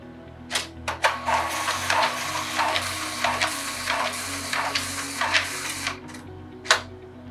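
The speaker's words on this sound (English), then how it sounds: "Press the scan button on the touch screen, select the job profile you want to use," An Epson DS-32000 Series document scanner runs through a scan, giving a steady mechanical whir and rumble with sharp clicks and thumps at the start and end.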